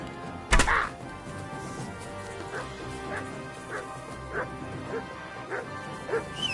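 Dog barking in Kingdom Come: Deliverance 2, one sharp loud bark up front followed by a regular series of lighter yips and whimpers spaced about every half second, with a voice talking alongside.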